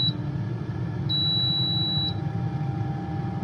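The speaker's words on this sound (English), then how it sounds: "So it's beeping, but I don't know why." An Instant Vortex 4-in-1 air fryer gives a short beep, then a sustained, steady electronic tone of about a second, clear and close over a low background hum.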